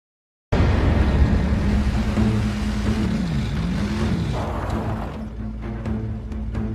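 A stolen car roars off in a cutscene from the 2007 Transformers PSP game: a loud, steady engine drone kicks in abruptly and holds throughout, with shifting pitch as it accelerates and faint clicks near the end.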